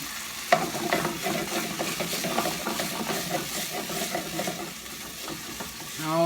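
Garlic sizzling in a hot pan for cauliflower couscous, a close crackling fry with busy stirring scrapes and a sharp clink at the start, swelling again at the end.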